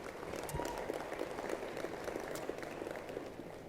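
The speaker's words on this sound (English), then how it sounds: "We need a round of applause." Applause breaks out at a political campaign event, a crowd clapping continuously at a moderate distance with scattered sharper claps standing out, sustained evenly for several seconds without speech.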